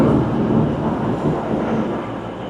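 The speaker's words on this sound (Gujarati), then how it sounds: "ટ્રેન આવી ગઈ છે, બસ હવે અંદર બેસીએ છે." A steady, loud rumble of train motion fills the interior of a passenger train near Geelong, Australia, with constant low wheel and carriage noise and no distinct voices.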